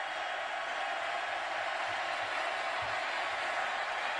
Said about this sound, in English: Crowd really getting into it right now for the Bears defense.